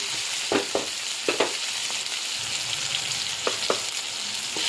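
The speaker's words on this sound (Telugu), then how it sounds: "ఉల్లగడ్డలు వేసి అది ఎత్తి దీంట్లో వేసేయాలండి. కొంచెం మగ్గనిద్దాం." Onions sauté in a pan for ulavala rasam with a constant close sizzle, broken by a few sharp scraping stirs, and no talk.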